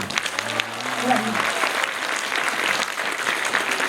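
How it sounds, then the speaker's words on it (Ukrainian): Festival audience applause at the opening of the 2014 На крилах надії festival, a dense, even patter of many hands clapping in a large room, with a voice briefly heard at the start. "Оплески, оплески."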